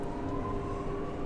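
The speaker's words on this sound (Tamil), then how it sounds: "இந்த ட்ரெயின் இப்போ மூவ் ஆகுது." A metro train pulling away, heard from inside the carriage as a steady low rumble with a faint rising electric motor whine, no speech.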